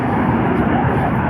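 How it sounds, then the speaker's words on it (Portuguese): Steady, loud jet roar of an airplane taking off from a nearby air base, a dense continuous wash of engine noise in open farmland, with someone talking underneath. "Teve uma decolagem aqui do avião da base aérea durante a gravação do vídeo, tá pegando um som de fundo aí, um ruído"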